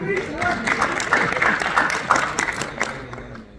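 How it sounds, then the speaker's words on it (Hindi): Audience members at a laptop chip-level repair seminar clap in a scattered, moderately loud round of applause that tapers off toward the end. "सच में नहीं है तो ताली बजाओ ना आएगी।"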